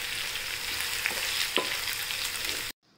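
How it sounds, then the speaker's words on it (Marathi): Sabudana khichdi with crushed peanuts is stirred in a hot pan, producing a continuous close sizzle with a couple of faint spoon taps before the sound cuts off abruptly. "आता साबुदाण्यामध्ये आता शेंगदाण्याचं कूट टाकूया आणि हलवून घेऊया"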